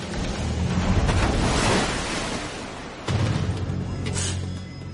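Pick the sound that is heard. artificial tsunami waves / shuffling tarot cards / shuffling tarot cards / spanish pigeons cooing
artificial tsunami waves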